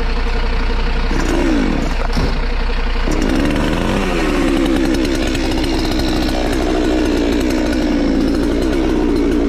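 A chainsaw roars loud and near while cutting through a fallen coconut tree lying across a road, its engine pitch rising and dipping as the blade bites.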